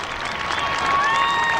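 Crowd lining First Avenue during a marathon, cheering and clapping as a steady, dense roar that swells slightly, with a few whistles rising above it.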